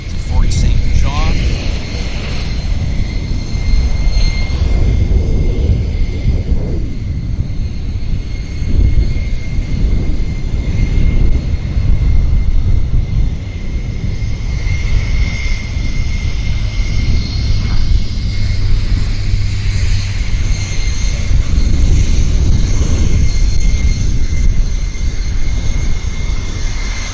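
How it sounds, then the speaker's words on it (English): A WestJet airliner bound for Fort St. John at Vancouver's YVR airport produces a loud, continuous low engine roar with a steady high whine, sustained throughout under outdoor wind and background rumble. "This next aircraft heading to Fort St. John is WestJet 3202 to Fort St. John."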